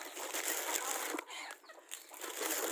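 Close chickens cluck and murmur in a busy, continuous jumble, with brief rustling like flapping wings.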